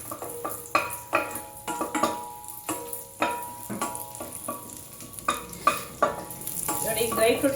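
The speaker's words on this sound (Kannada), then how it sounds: "ಇವಾಗೆಲ್ಲ ಡ್ರೈ ಫ್ರೂಟ್ಸ್ ಹಾಕ್ಬಿಟ್ಟು ಫ್ರೈ ಮಾಡ್ಕೊಳ್ಳೋಣ." Dry fruits frying in hot ghee in a pan while being stirred, with rhythmic scraping strokes over a continuous sizzle, close and fairly loud, building toward the end.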